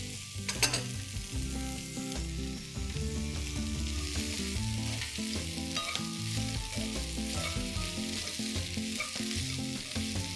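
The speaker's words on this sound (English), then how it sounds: "And saute it for 5 minutes." Vegetables including yellow pumpkin sauté in a pan with a steady, soft sizzle that runs continuously beneath louder background music.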